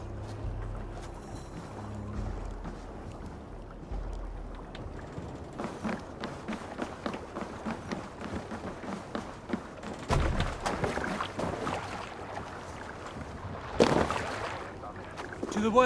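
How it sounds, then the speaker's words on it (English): Viking longship rowed through choppy water in Assassin's Creed Valhalla, with rhythmic oar strokes and splashing under wind and creaking, a sudden louder wash of water near the end. "We must row in these waters."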